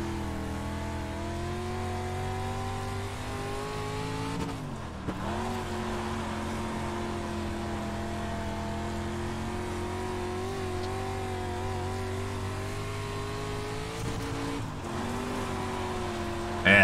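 A street stock dirt car engine drones steadily in the iRacing game at Lincoln, a sustained close roar with two brief lifts and dips in pitch as the car slows into turns and gets back on the throttle.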